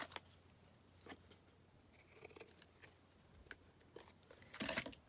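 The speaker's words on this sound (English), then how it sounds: "Just going to snip that out." Small scissors snip lace trim on a resin-decorated craft frame, a scatter of sharp, close clicks and cuts with a dense cluster of snips near the end, no talking.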